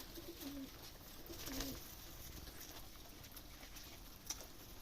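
Soft, low cooing of Rajshahi Giribaz pigeons, a couple of rolling coos over a faint background hiss, no talking.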